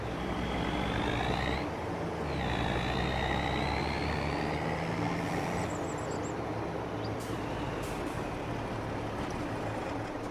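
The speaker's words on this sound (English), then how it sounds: "We can move the truck to one side for now." A truck being driven aside in Farming Simulator 25 gives a steady, loud engine rumble with a rising whine that dips and climbs again as it moves, continuous throughout with no talking.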